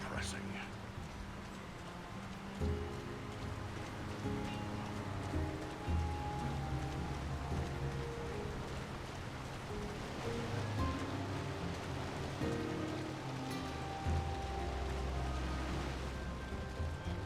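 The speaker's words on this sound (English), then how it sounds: "Who could live in a town where it's always raining?" Steady rain falls over a town in the PC game Lord of the Rings: War in the North, a constant broadband hiss and patter running throughout while characters talk over it.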